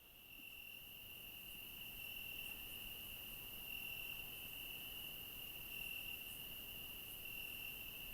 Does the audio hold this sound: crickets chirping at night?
yes